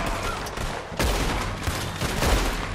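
Gunshots ring out in Red Dead Redemption 2, a steady barrage of overlapping rifle and pistol fire with a few sharper, louder cracks standing out from the ongoing shootout.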